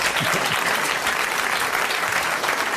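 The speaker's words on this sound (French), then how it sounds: "je vais vous demander d'applaudir Monsieur Mignon" A studio audience on a 1982 French television show breaks into dense, steady applause, loud and continuous throughout.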